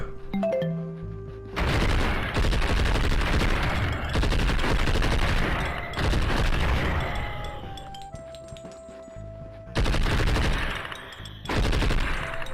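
Heavy gunfire in the PC video game Blood and Bacon, long loud bursts of rapid automatic shots with short pauses between volleys, plus occasional pinging game effects and no talking.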